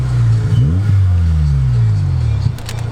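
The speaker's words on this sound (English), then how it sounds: "Give her a little blip. Pretty good for a muffler delete." A car engine blips and revs loudly with a raw, unmuffled rasp, then settles into a deep, rumbling idle.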